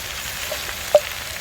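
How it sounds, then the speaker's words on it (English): Pheasant legs frying in a pan at a woodland wild camp, a soft steady sizzle with a brief louder spit near the middle, fairly faint and with no talking. "Watch them sizzle."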